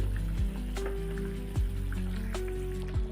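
A pot of dry fish curry simmering on the stove gives off a soft, continuous bubbling sizzle, with a few brief clicking or tapping sounds at regular intervals.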